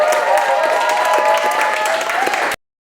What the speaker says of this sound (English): We have a big round of applause for all the poets from the first section.